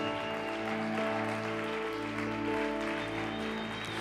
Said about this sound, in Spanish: Denle un fuerte aplauso a mi rey, aleluya.